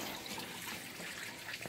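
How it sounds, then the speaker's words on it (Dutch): Water from melting snow drips and trickles off a roof onto a terrace, a steady wash of splashing liquid heard alone and fairly close. "De sneeuw die op het dak ligt, wordt water."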